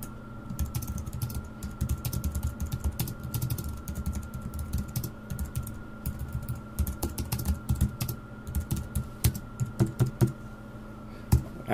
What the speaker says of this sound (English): I can type up my introduction.